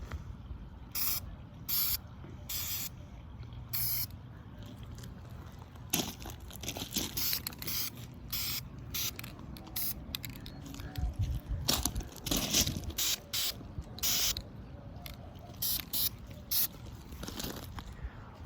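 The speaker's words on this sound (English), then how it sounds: "A light spray first." Short hissing bursts of an aerosol spray paint applying a light coat, repeated in quick pulses with brief pauses, close by against a low background rumble.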